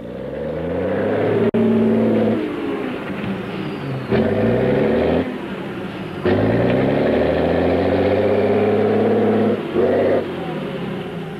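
A heavy engine of a brand-new, tank-like amphibious service vehicle rumbles loud and close, idling and revving in steady surges with brief drops between bursts.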